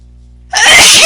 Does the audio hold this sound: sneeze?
yes